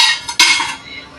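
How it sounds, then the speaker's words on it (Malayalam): A metal baking ring is set down inside a pot being preheated for baking, giving a couple of close, bright metallic clanks that ring briefly and fade. "റിങ് ഇറക്കി വെക്കുക."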